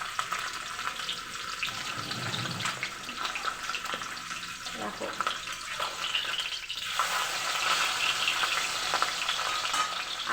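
Fish frying in a kadai (wok) gives a continuous close sizzle and crackle, louder toward the end, with running water in the background and one brief spoken word.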